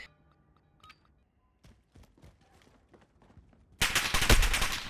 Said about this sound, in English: Taking fire! Now we're in a bit of a pickle.